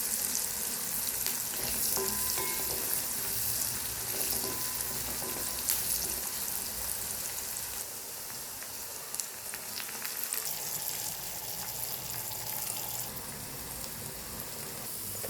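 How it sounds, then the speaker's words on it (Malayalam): Mustard seeds fry in hot oil for a sambar tempering, giving a steady close sizzle with scattered sharp pops and crackles that carry on evenly throughout. "സാമ്പാറിന് ചേർക്കാനുള്ള കടുക് വറുത്തത് റെഡി ആയിട്ടുണ്ട്."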